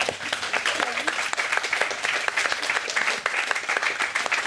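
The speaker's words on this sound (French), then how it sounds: "Je pense qu'on peut s'applaudir nous-mêmes, c'était cool." An audience at a talk on fighting sexism in video games applauds continuously, dense and fairly loud clapping filling the whole stretch without pause.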